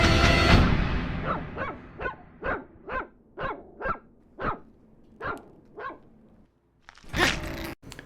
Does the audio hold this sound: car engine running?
no